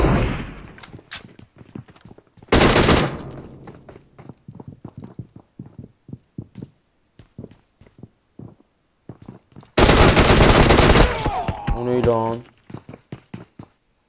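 PUBG gunfire: scattered single shots and clicks, two loud sustained bursts of close automatic fire, with someone talking between them.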